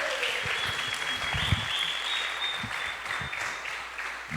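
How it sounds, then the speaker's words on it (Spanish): A group of people at a church gathering clapping steadily, moderately close, with a few scattered voices underneath. "Vamos a dar un aplauso a todos."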